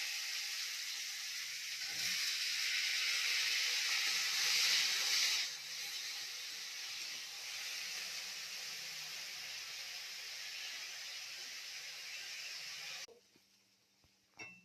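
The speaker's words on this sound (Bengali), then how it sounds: "এই দেখো এখন আমি আলু ভাজছি, দেখো দেখতে পাচ্ছ।" Potatoes fry in hot oil with a soft, continuous hiss that swells for a few seconds and then settles, heard close and alone before cutting off near the end.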